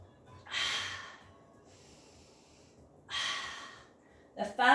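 Slow, audible exhales during a pilates heel-beat exercise, two long breathy puffs a few seconds apart followed by a sharper double breath at the end, close and moderately loud.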